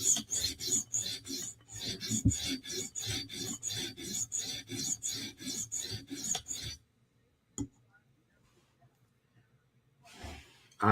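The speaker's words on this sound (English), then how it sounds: "So now we're really just kind of give the edge a scrub to keep it even with the other side." S90V steel knife edge being sharpened on a TSProf Kadet guided sharpening system, a rapid series of rhythmic raspy abrasive strokes for about seven seconds, then near silence with a single tap and faint rustling.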